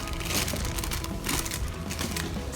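A plastic bag holding an LED love sign crinkles and crackles up close during unboxing, in a dense run of crumpling bursts with no talking.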